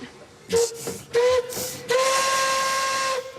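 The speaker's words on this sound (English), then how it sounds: "I'm going to get in my train and give her a toot." A Puffing Billy steam train whistle at Belgrave gives two short toots followed by one long, steady blast, loud and close, with hissing steam around it.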